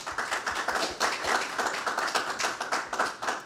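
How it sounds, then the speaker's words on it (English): A modest audience claps at a community conversation event on police officers' careers; individual hand claps are distinct and rhythmic, moderately loud and even throughout, with no talking. "So please give him a round of applause."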